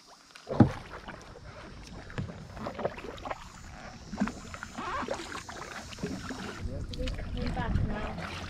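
Kayak paddles dip and pull through the water of Halong Bay in Vietnam, making close splashes and drips in an uneven rhythm with light wind noise and a voice now and then.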